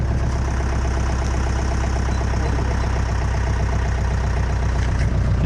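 A motorbike engine runs on the Ooty to Masinagudi road, making a loud, steady low drone with a constant rhythmic pulse and no pauses from start to finish.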